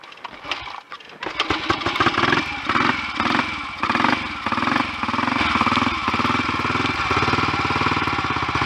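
A Royal Enfield 250 GT motorcycle, being recommissioned and started cold on choke, turns over after a brief quiet moment and catches, then runs steadily with a loud, even single-cylinder beat for several seconds.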